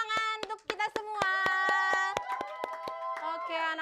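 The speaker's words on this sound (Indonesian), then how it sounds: "tepuk tangan untuk kita semua" Children in a classroom clap in a brisk burst of applause, sharp hand claps close by and mixed with sustained children's voices calling out together.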